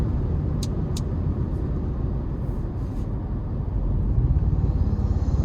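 A 2026 Toyota Tacoma TrailHunter pickup with the i-Force MAX engine, driven in sport mode, gives a steady low rumble from inside the cab that swells louder toward the end, with no talking.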